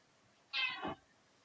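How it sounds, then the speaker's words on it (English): A small cat gives a single short meow, close and clear, against a quiet background. "Oh, look at that little kitty."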